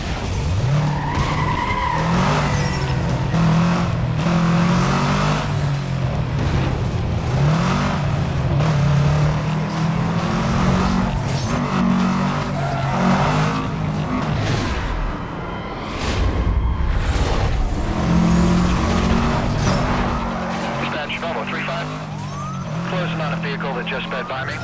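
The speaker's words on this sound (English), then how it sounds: "Suspect's driving a silver Volkswagen. Speeds over 140." A silver Volkswagen Beetle races from police at very high speed, giving a continuous loud roar of engine and road noise with surging, shifting tones throughout.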